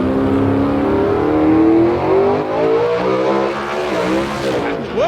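Race car at the US Street Nationals drag event accelerating hard down the track, a loud close engine roar climbing steadily in pitch, with a brief squeal near the end and no talk.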